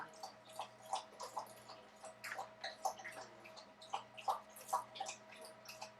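Soft, irregular lapping and slurping of dogs drinking from a water bowl nearby, over a quiet low hum.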